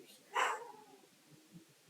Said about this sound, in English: I don't know if y'all can hear Bailey barking in the background